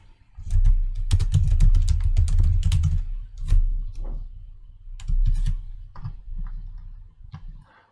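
Rapid typing on a computer keyboard while entering search conditions in a medical data query tool, with dense clustered clicks in bursts and brief pauses, close and clear with no talking.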